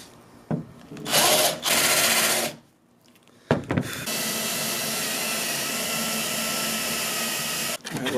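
A power drill bores holes for a wing spoiler on a Mk1 S12 coupe. It whines in two short bursts, then in one long, steady run, close and loud, with brief clunks between.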